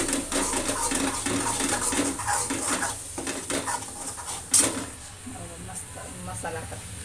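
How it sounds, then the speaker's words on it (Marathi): Spices with turmeric sautéed and stirred in a pan for misal pav, with steady scraping and clinking of a utensil against the pan and a sharp clank midway, while a person talks throughout. "थोडीशी हळद पण टाकू. बघा आपल्याला मस्त परतून द्यायचं."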